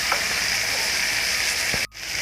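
Ground mustard spice paste sizzling in a pan for shorshe ilish, a steady close hiss with a faint tap partway through, then a brief drop in sound before the sizzle returns.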